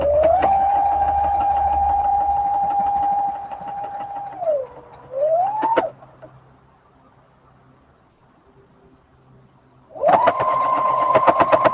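Sewing machine stitching a quilt seam, a steady loud motor whine running for about four and a half seconds, then a short slower burst, a quiet pause, and another fast run starting near the end.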